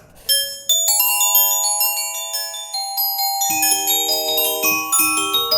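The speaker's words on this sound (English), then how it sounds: "I change to these little tiny brass mallets, let's see how it goes." Parsifal bells struck with tiny brass mallets ring out in a quick series of bright, bell-like notes that sustain and overlap, close and loud with no voices.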